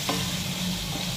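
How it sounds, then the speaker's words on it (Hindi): Onion and chicken masala sizzle steadily in a pan for Goan chicken shagoti, a close, continuous frying hiss with faint stirring scrapes and no talking. "चिकन मातशी 10-5 मिनटां शिजोवन घेवपाचें"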